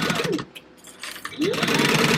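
A sewing machine stitching fabric for a book purse, two close, loud whirring runs with a short pause between them.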